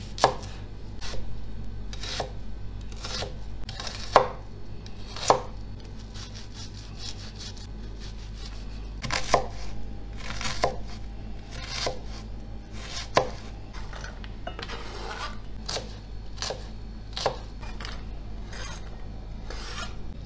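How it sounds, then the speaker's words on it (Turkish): Steady knife chopping of garlic on a cutting board, rapid regular taps with occasional louder knocks, close by and continuing without talk. "Sarımsağı da küçük küçük doğruyorum"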